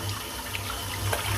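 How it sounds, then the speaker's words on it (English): Tap water runs steadily into a sink while a shaving brush is rinsed out, a close, continuous splashing hiss with small shifts in the flow and a low hum underneath. "This takes quite a while to clean this brush out. Wasting a lot of water in."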